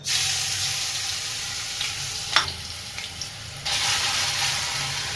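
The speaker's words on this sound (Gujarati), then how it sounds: "મરચાની પેસ્ટ નાખીએ પચાસ ગ્રામ" About fifty grams of green chili paste hitting a tempering of boiled potato masala for bread pakoras, a dense steady frying hiss with a single brief clink midway and a louder surge of sizzle near the end, no voices.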